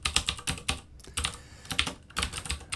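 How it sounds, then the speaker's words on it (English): Code being typed on a computer keyboard during a C# programming lesson: close, brisk clusters of key clicks in quick bursts, separated by a couple of short pauses. "let me type"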